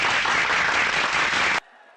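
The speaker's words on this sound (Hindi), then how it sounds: "बजाओ ताली।" An audience breaks into dense, loud applause for about a second and a half, then stops abruptly, leaving quiet room tone.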